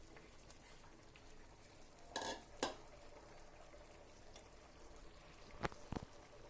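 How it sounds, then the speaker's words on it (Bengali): Pre-fried prawns go into a pan with a tomato mixture and are stirred, giving a few sharp spoon-on-pan clatters over a faint, quiet sizzle. "ভেজে রাখা চিংড়ি মাছগুলো দিয়ে দিব।"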